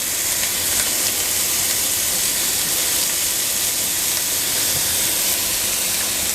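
Butter melting in a hot pan beside lamb rump steaks, giving a loud, unbroken sizzling hiss that holds steady from start to finish, close by with no voices.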